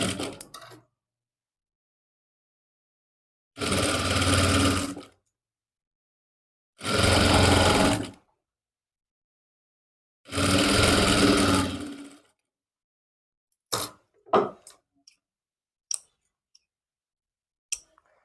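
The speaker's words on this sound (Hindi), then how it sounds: "और इस पे सिलाई लगा लेंगे।" A sewing machine stitches a 1.5-inch fabric strip folded twice, meant for the shoulder placket of a kurti, in three steady runs of about two seconds each, followed by a few sharp clicks and taps.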